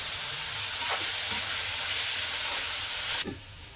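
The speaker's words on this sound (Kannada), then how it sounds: "ಈರುಳ್ಳಿ ಫ್ರೈ ಮಾಡ್ಕೋಬೇಕಾದ್ರೆ ಉಪ್ಪು ಹಾಕೋತಾ ಇದ್ದಾರೆ." Onions frying with salt in a hot pan for a paneer dish: a steady, close, loud sizzle with a few stirring scrapes, cutting off sharply near the end.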